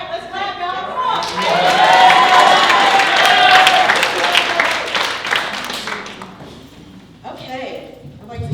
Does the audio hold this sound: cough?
no